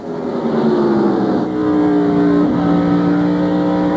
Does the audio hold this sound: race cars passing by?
yes